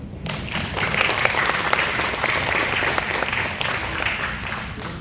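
School audience of first-year high school students claps warmly to welcome a group of presenters, a steady, fairly loud wave of clapping that swells after a quiet start.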